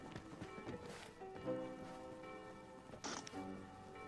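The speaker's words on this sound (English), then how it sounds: "Can you hear the church bell?" A church bell rings in the Arma Reforger video game, its sustained tones hanging faintly in the distance, mixed with light thumping and scuffing game sounds nearby.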